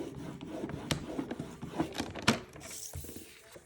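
A tool is drawn along paper on a scoring board, giving a series of quiet scraping, rubbing strokes with a few sharper clicks, close and faint with no talk.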